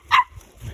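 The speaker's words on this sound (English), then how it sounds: "Oh, look at this toy dog." A battery-powered toy dog gives a single short, bright electronic bark close up, followed by a faint low rustle.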